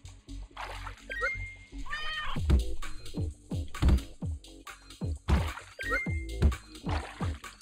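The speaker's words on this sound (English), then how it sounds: "You stupid rotten kitty." Video game cat meowing in Turnip Boy Commits Tax Evasion, repeated short meows mixed with splashy, dripping game effects at moderate loudness, with no talk over them.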